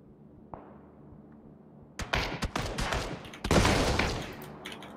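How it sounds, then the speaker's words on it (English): Gunfire in the PUBG Mobile battle royale game on the Erangel map, a quiet lull with a faint thump, then bursts of rapid shots crackling loud and close for several seconds. "He's shooting"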